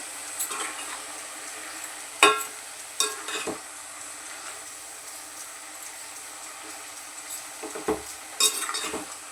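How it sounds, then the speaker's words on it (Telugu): Liver frying in oil alongside mutton keema, a faint steady sizzle broken by several sharp clinks and scrapes of a spoon against the pan, close by with no talking. "ఇప్పుడు ఈ లీవర్ అయితే వేసుకున్నాను ఇది కూడా బాగా అయితే ఫ్రై అవ్వనివ్వాలి ఆయిల్లో"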